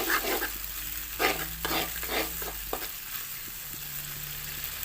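Water spinach stir-fried with canned fish in a pan, a low steady sizzle with a run of quick scraping stirs early on, then settling into a quieter frying hiss.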